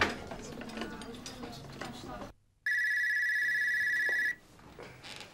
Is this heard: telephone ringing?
yes